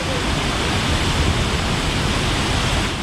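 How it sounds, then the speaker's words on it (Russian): Düden waterfall in Antalya, Turkey, roaring as a loud, steady broadband rush of falling water that fills the whole stretch without a break. "то мы с вами увидим как раз водопад"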